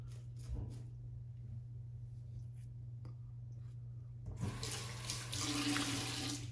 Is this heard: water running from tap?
yes